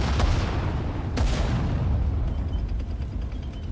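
Artillery fire in the World War II strategy game Sudden Strike 4: two sharp booming blasts about a second apart, each followed by a heavy rumbling tail that fades under a continuous low battlefield roar.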